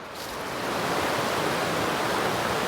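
Creek water rushes in a steady, close, broadband roar beside a hiking trail on Brown Mountain, continuous and even with no voices over it.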